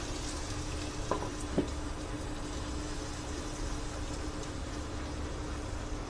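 Potatoes fry under a lid over a low-medium flame, giving a soft, steady sizzle with a constant low hiss and two faint clinks partway through.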